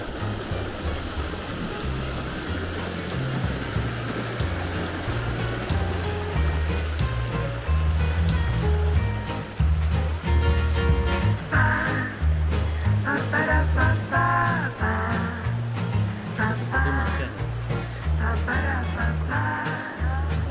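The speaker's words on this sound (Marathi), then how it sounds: "हा पाण्याचा खळखळ होणारा आवाज, खळखळून आवाज येतो।" Water gurgling and splashing steadily at Kundan Dam near Kasara, a continuous rushing flow close by with some brighter burbles in the later part, no clear talk.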